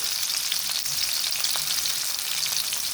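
Curry leaves crackle and sizzle in hot oil for a coconut chutney tempering, a steady bright frying hiss with small pops throughout.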